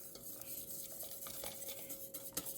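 Egg mixture for a lemon meringue pie being whisked quickly in a bowl, a faint, rapid, continuous metallic stirring and clinking close by with no talk.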